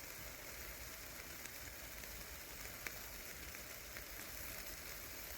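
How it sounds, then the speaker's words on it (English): Food sizzles on an outdoor cook in the sun, a faint, steady hiss that runs through the whole stretch with no talk over it. "Can you hear the sizzling?"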